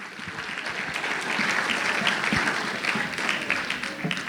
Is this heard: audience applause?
yes